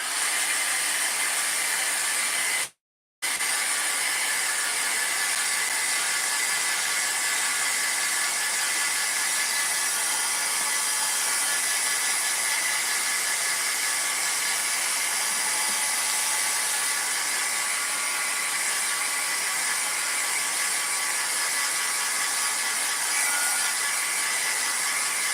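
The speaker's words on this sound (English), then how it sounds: "let me hit this with a heat gun one more time" A heat gun blows steadily over a craft project, a constant loud hiss that runs almost unbroken, with one brief cut-off near the start.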